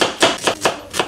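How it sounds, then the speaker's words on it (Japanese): A knife chops through an onion on a cutting board in four crisp, evenly spaced strikes, close and fairly loud, with no talking. "次、玉ねぎ切る。"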